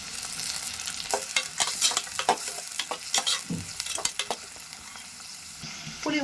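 Fenugreek, garlic, onion and curry leaves crackle in hot oil as the base for a Tamil fish curry, a close sizzle punctuated by a quick run of stirring scrapes and bursts of spattering.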